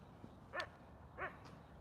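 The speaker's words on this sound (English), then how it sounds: "That dog is on a chain with someone." A dog on a chain lets out two short, moderately distant barks about half a second apart over quiet outdoor background noise.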